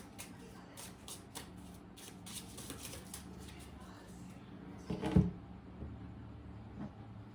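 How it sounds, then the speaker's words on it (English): Soft, rapid papery riffling of cards being shuffled, fairly close and quiet, followed by a brief thump and some faint handling noises. "just gonna do a couple of more shuffles."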